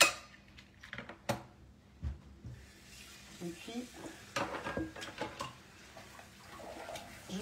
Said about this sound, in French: je vais juste nettoyer ma casserole